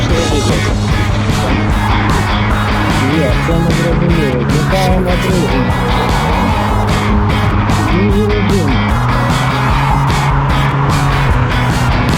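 Self-assembled scooter ridden in first speed, giving a loud, continuous engine drone mixed with rushing wind noise that stays steady for the whole stretch.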